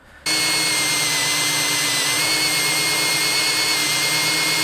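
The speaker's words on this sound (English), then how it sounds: "now we're just going to take the hole saw and we're going to drill holes into it all the way through" A power drill spins a hole saw through wood, starting after a short quiet moment and then running steadily and loudly, with a constant whine and no pauses throughout.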